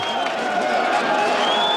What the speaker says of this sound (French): Et Bonner qui sort sous les acclamations du public de Bourgoin